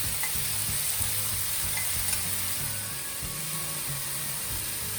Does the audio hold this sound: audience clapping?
no